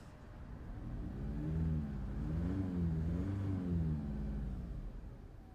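A 2011 Seat Ibiza 1.2 TDi diesel, parked at the roadside with a turbo boost control fault, idles and then revs up, its engine note rising and falling in a smooth swell before settling, close and steady with no talk.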